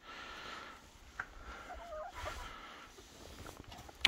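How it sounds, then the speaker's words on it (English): A couple of chickens dust-bathing near a backyard coop and run give soft, faint clucks, a few brief low calls scattered across a quiet outdoor background. "But got a couple chickens down here taking a dust bath."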